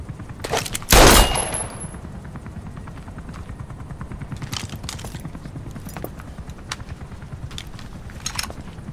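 Automatic weapon fire in Metal Gear Solid V, a loud close burst of rapid shots followed by steady lower rattling and sporadic sharper cracks in the background.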